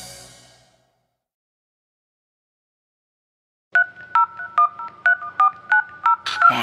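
Telephone keypad tones dial out in a rapid, loud sequence of about ten evenly spaced beeps within a 1990s Latin reggaeton song, following a faint fade and a brief silence.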